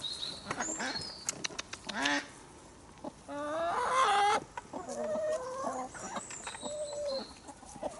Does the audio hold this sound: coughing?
no